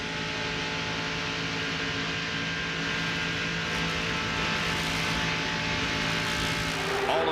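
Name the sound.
NASCAR stock car engine at full throttle at Daytona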